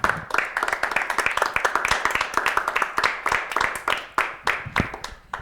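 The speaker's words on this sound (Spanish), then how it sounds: "ahora un aplauso fuerte para cerrar esta entrevista." Clapping from a small audience closing an interview, distinct individual hand claps forming a brisk, uneven applause that stays fairly close and clear.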